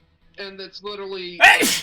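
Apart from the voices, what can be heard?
sneeze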